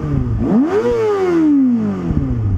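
Kawasaki ZX-6R 636 motorcycle revved up close with one quick twist of the throttle, rising sharply, then falling back to a loud idle.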